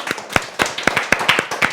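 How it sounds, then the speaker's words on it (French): A school quiz audience claps in a short burst of about eight sharp, fairly regular claps, close and moderately loud, with no talking over it. "Bravo, on l'applaudit très très fort."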